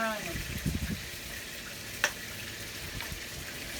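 Fish pieces fry in a pan for fish tacos, a soft continuous sizzle with a few crackles and pops beneath a low murmur of nearby voices at the start.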